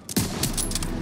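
Gunfire in the World War II shooter Call of Duty: WWII: a sharp crack opens a quick volley of rapid shots, loud and close, echoing briefly as the rattle continues.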